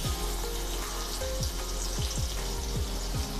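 Garlic and asafoetida fry in hot oil in a kadhai, giving a bright steady sizzle close up, with low rhythmic scraping or knocking strokes repeating about every half second.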